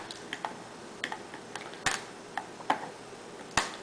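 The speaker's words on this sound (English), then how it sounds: "Use the knife and cut right down the middle, huh?" A knife cuts into a sealed box of 2008 National Treasures trading cards, producing a series of sharp, close clicks and snaps at irregular intervals with quiet pauses between them.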